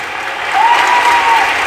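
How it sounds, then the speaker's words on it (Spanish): A short burst of audience applause for a gift recipient at a concert in a sanctuary, swelling from light clapping into a fuller round with a faint voice over it. "Antón, un aplauso para Antón"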